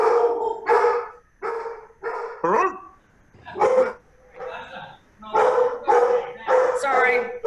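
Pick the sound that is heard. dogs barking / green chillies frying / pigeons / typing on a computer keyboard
dogs barking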